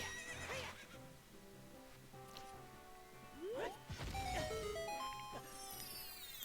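A horse in the Ocarina of Time video game neighs in a rising, wavering whinny, with game music tones and a brief clip-clop of hooves, all fairly quiet.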